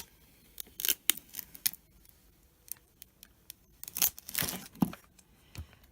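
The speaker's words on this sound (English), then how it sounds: "I'm going to peel away the transfer tape to reveal" Transfer tape is peeled away from self-adhesive vinyl in short, crisp tearing strips, a few quick rips close to the microphone separated by quiet pauses, with faint crinkling between them and no talking.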